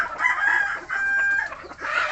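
Free-range laying hens in a wooden coop crowing and clucking close by, several overlapping calls with a couple of brief pauses, no talking.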